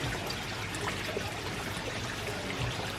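Water from a solar-powered water blade fountain trickles and splashes steadily, a soft continuous flow with no breaks and no voices.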